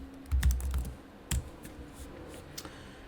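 A command is typed on a computer keyboard, a short run of close, crisp key clicks with a couple of heavier keystrokes and a final tap, no talking.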